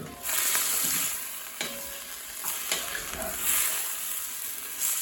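Browned, seasoned beef cubes hitting a hot pan with onions for stew, a steady crackling sizzle with occasional stirring scrapes and tosses, close and moderately loud.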